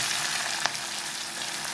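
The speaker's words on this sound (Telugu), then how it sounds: "చూడండి, ఉల్లిపాయలు కొంచెం వేగాలండి" Chopped onions fry in oil with green chillies, ginger and garlic inside a pressure cooker pot, a steady close hissing sizzle heard alone, with one brief click.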